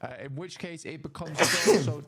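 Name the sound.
sneeze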